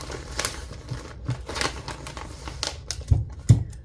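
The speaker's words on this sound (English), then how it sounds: "They are fabric cutting scissors" Fabric-cutting scissors slicing through wrapping paper, a series of crisp snips and papery crinkles at an uneven pace, close and fairly loud with no talking.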